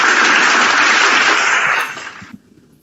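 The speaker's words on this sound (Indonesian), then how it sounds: "Oke, tepuk tangannya maksudnya apa?" A loud, dense burst of audience applause, steady for about two seconds before fading out, with a single clap at the end.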